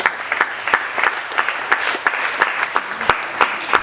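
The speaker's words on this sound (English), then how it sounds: "Clap again for Master Jesus." Church congregation claps in a quick, rhythmic unison beat, sharp repeated hand claps at a steady tempo, loud and near, without talk.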